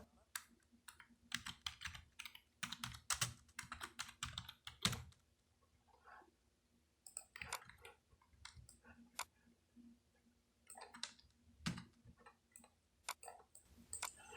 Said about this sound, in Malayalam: ഇപ്പോൾ ജസ്റ്റ് ഞാനിവിടെ സ്മാർട്ട് ഒബ്ജക്റ്റ് എന്ന് ടൈപ്പ് ചെയ്തിട്ടുണ്ട്